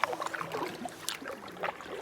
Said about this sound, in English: I'm paddling towards the mansion